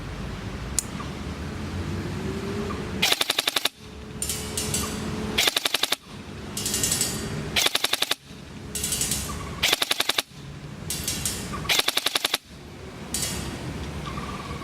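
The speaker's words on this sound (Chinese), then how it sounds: "我现在测试全自动。" A DTW modified airsoft gun with T-HOP and HS+ barrel firing full-auto in an outdoor shooting test, six sharp rapid bursts of rattling mechanical shots spaced a couple of seconds apart over a steady outdoor background hum.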